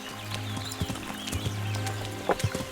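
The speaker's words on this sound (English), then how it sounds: "I can see the horse." Horse hooves clip-clop in the medieval role-playing game Kingdom Come Deliverance, a steady run of soft thuds over a low steady hum. A few sharper, nearer hoofbeats land near the end.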